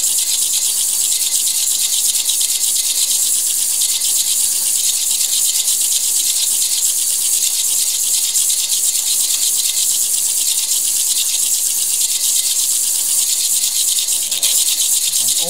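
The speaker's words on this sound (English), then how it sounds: "that needs more grinding." A faceting machine grinds a garden rock against a spinning lap disc, making a steady, loud hiss with a gritty rattle throughout and no pauses.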